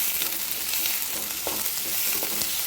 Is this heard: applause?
no